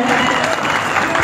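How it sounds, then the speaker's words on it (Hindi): Applause breaks out from the audience at a school Teacher Day event for a ninth-class student, loud, dense and close clapping filling the short moment without a break. "आप इसके लिए भरपूर तालियां होनी चाहिए"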